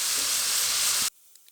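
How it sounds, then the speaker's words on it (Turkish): Eggplant pieces sizzle loudly in hot butter, a dense steady frying hiss for about a second that then cuts off abruptly, leaving near silence with a couple of faint clicks. "Evet şimdi şöyle patlıcanları tereyağının içine alıyorum."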